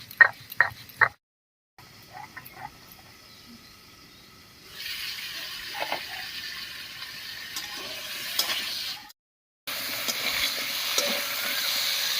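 Pointed gourd and potato frying in a pan give a soft, steady sizzle, broken by a few clicks and stirring scrapes and two brief silent gaps.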